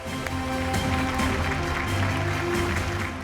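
Conference audience at a leadership awards conclave clapping in a steady, dense wash of applause as a speaker is welcomed on stage, continuous and fairly even throughout.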